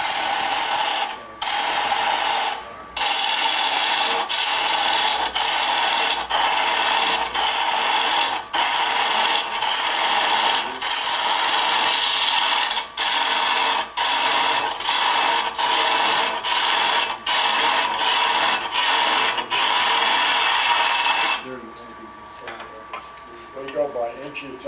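Bowl gouge cutting a long-stem wooden goblet on a lathe: a steady, loud rasping scrape with rhythmic ticks as the blank spins, dropping off near the end to quieter machine hum.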